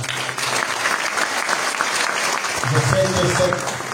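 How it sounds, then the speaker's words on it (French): Audience at a university event applauding strongly, dense clapping over the whole stretch, with voices and a brief louder tonal sound near the end. "Donc, qu'on applaudit très fort."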